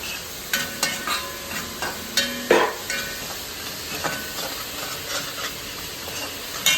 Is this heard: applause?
no